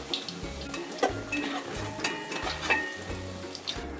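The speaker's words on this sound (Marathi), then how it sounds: "हा चिरलेला बटाटा थोडा फ्राय करून घेऊयात" Chopped potatoes frying in a pan for vegetable biryani, a loud, close crackling sizzle with bursts of spattering and a few clinks from stirring.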